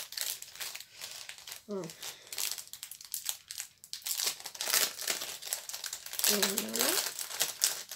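Cardboard box and crinkly packaging being pulled apart and handled while a greeting card is unboxed, with rustling and crackling bursts throughout, close and moderately loud, and a voice speaking briefly between them.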